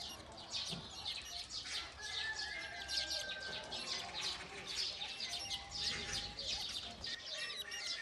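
Several small rescued birds chirp and tweet continuously at close range, with faint flutters and soft handling sounds beneath, and no talk over them.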